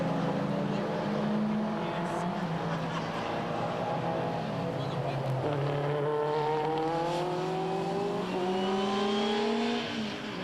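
Historic race cars in a 2008 VHC endurance series race, an Alpine and a Chevron B21 among them, drone steadily with engines revving and shifting up as they pass close by, under continuous commentary.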